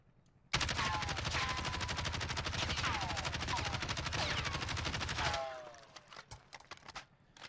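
Kilo assault rifle in Warzone emptying a full magazine in one long, loud, rapid automatic burst of dense, evenly spaced shots, with no pauses until the gun runs dry and faint game ambience takes over.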